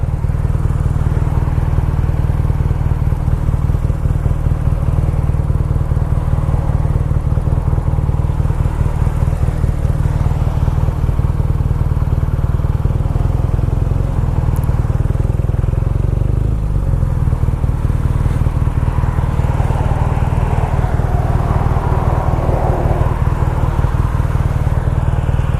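A BMW R nineT Scrambler motorcycle underway, its engine a loud, steady, unbroken drone with road and wind rush throughout and no pauses.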